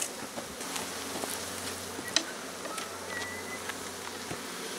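Honey bees buzz around hive frames during a harvest from Spanish mixed Layens hives, a steady diffuse insect hum with brief scattered sharper passes, moderately loud and close, with no talk.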